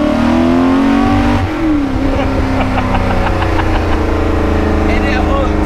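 Ford GT40 engine pulling hard under acceleration, loud and close, its roar sweeping upward in pitch through the gears with a shift break and a strong rumble throughout, voices briefly over it.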